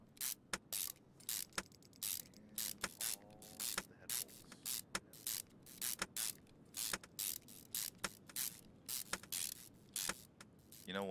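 Head bolts being tightened on a Datsun 240Z engine in Car Mechanic Simulator 2021: a long run of rapid ratchet clicks in quick bursts, close and fairly loud, with no talking.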